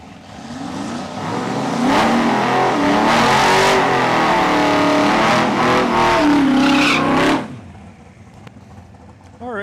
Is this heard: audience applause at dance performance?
no